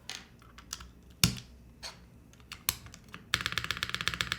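Typing on an Arc60 mechanical keyboard fitted with NK Cream+ switches and a GMK spacebar: a few scattered keystrokes and spacebar thocks, then a fast, even run of close, crisp clacks.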